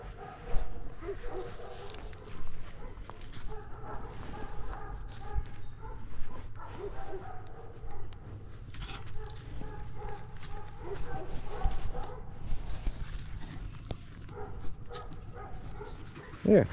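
A powerful dog barks intermittently over a long stretch of busy, noisy background with scattered thumps and some talk, the barks moderately loud but partly masked.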